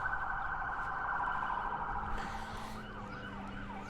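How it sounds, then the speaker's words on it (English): A wailing siren rises and falls steadily in the distance, continuous and fairly faint, with no talking. "Sorry for the sirens."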